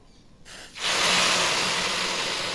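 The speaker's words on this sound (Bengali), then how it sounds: "এখন আমি পানি দিয়ে দিব।" Water pours into a pan of zarda semai, a sweet vermicelli cooked with ghee and coconut, and sets off a loud, steady sizzling hiss that starts abruptly and continues close by without any talking.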